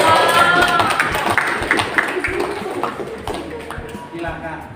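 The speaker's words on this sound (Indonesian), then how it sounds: "Oke, tepuk tangan dulu." Students clap for a classmate's performance in a school arts class, a dense burst of hand claps that fades over a few seconds while a voice talks over it.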